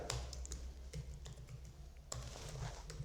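Typing on a computer keyboard during an Excel exercise: a quiet, close run of irregular key clicks in short bursts with brief pauses, over a low background hum.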